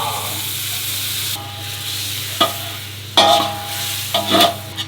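Black pepper and butter sizzling in a pan for Singapore-style pepper crab, a steady close frying hiss with scraping stirs and a few louder spatula clatters; no talking.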